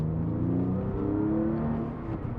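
A Porsche 911 996 C4S pulling away after a tight turn, its engine a close, steady rising hum with harmonic tones climbing as it accelerates briefly.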